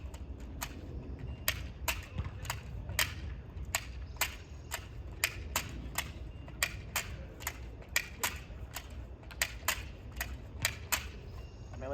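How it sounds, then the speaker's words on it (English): Nerf Rebelle crossbow shooting foam darts: a long series of sharp, evenly spaced snaps and clicks, loud and close, repeating roughly every half second over a low background rumble, with no talk. "And it didn't fire the bottom dart."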